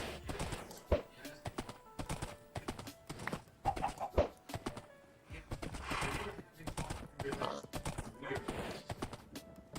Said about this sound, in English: This is a slow horse!